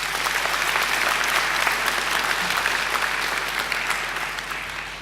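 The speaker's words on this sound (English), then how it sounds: "I think they deserve a great round of applause too." Graduation ceremony audience giving a round of applause, dense sustained clapping from a large crowd filling the hall, steady and loud before easing slightly toward the end.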